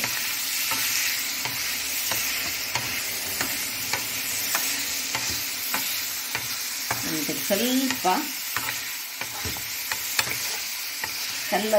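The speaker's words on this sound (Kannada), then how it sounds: "ತೊಳೆದುಕೊಂಡಂತಹ ಪನ್ನೀರನ್ನು ಇದರಲ್ಲಿ ಹಾಕೊಳ್ತಿದ್ದೇನೆ. ಸ್ವಲ್ಪ ಇದನ್ನು ಫ್ರೈ ಮಾಡ್ಕೊಳ್ಳೋಣ." Washed paneer fries in a pan with a loud, continuous sizzle, and the spatula scrapes and taps against the pan every second or so.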